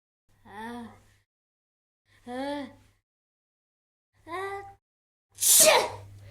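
A voice imitates a dragon's sneeze: three rising, breathy gasps spaced apart, then a loud, explosive burst.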